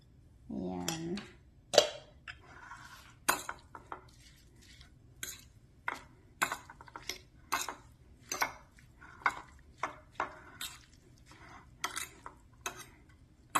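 A utensil clinks and taps against a bowl while shredded cucumber and onion pickles are tossed with a little sugar and pepper. The sharp, irregular knocks are close, with a faint voice early on.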